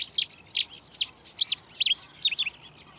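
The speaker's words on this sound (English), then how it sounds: "every now and again you hear the explosive song of a Chetty's warbler." Bird calls among reed birds, with Cetti's warbler song: a series of sharp, high, chirping bursts at roughly half-second intervals, moderately near, over faint background hiss.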